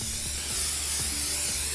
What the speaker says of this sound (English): You're just gonna spray the back and do it quite generously.